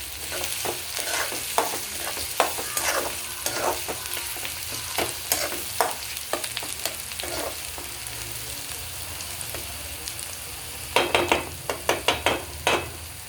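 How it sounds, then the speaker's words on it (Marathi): Green chilies and curry leaves sizzle in hot oil for a Kokani-style sukat, with a steady frying hiss broken by frequent spoon scrapes and stirring clatters against the pan, ending in a burst of louder spattering. "आता आपण इथे एक साथ मिरची आणि कढीपत्ता टाकून घेऊयात।"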